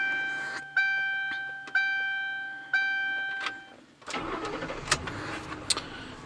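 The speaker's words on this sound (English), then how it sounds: "then start the engine" A Ford Crown Victoria's dash chimes ring in a short series, then the engine cranks and starts, settling into a steady idle close by.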